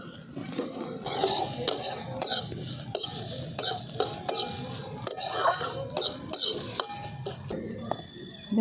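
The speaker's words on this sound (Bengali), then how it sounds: "পেঁয়াজটাকে খুব ভালো করে ভেজে নিতে হবে" Onions fry in a pan while a spoon stirs them in quick, repeated scrapes and clinks over a lower sizzle. The sound is close and fairly quiet.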